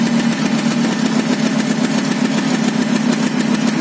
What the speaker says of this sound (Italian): Come canta sto motore?